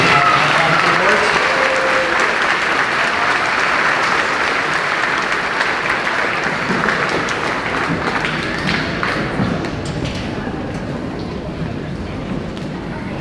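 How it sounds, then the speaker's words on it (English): Audience applause at a fifth-grade moving-up ceremony for athletes and athletic awards, a broad sustained round of clapping from a large crowd that slowly thins toward the end, with some voices mixed in. "Give another round of applause for our athletes and our athletic awards."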